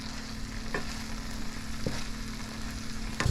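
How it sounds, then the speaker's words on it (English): Saltfish is mixed into vegetables frying in a pot for a Guyanese saltfish stew, giving a low steady sizzle with a few soft spoon knocks against the pot; no voices. "Give this a good mix."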